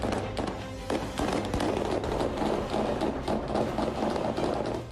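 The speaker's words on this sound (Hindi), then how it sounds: "जहां कहीं महिलाओं का रेला आते देखा, वहां तालिबानियों ने अंधाधुंध गोलियां चलाई।" Taliban gunfire aimed at women protesters in Afghanistan comes as rapid, irregular cracks and pops over a dense, noisy crowd background, sounding close and continuous.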